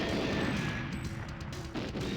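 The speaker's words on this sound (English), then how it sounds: "I may have went too far with the explosions." Explosions in the video game GoldenEye 007, a dense continuous roar of blasts and rumbling booms that fills the whole short stretch loudly, with no talking.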